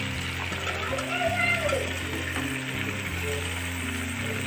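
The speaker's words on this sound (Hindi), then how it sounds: "अब हम इसमें डालेंगे ये कद्दू।" Pumpkin pieces tipped into a pan of frying potatoes for a bhandara-style aloo-kaddu sabzi give off a steady moderate sizzle, with a low sustained tonal drone running underneath throughout.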